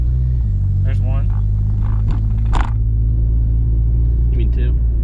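A 2001 Honda Civic with a freshly replaced, slightly rusty transmission drives along with a steady low engine rumble, with clunks and clatters as gears shift; voices talk over it.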